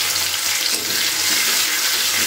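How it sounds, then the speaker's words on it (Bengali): Onions fry in oil in a pan with a steady, bright sizzle and soft crackling, close and continuous, with no voices over it. "পেঁয়াজটাকেও খুব ভালো করে ভাজা ভাজা করে নিচ্ছি"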